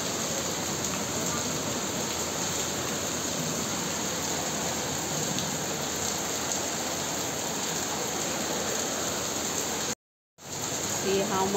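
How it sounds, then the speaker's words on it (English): Heavy rain pours down steadily in a dense, continuous hiss, broken by a brief moment of silence near the end before resuming. "See how much heavy rain is dripping down. It's too much heavy rain."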